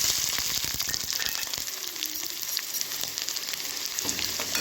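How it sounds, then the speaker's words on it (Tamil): Ginger and garlic sizzle and crackle in hot oil in a kadai, a steady close frying hiss with occasional stirring scrapes throughout. "இப்போ இந்த இஞ்சி பூண்டெல்லாம் நல்லா இந்த ஆயிலில் வதங்கிக்கட்டும்."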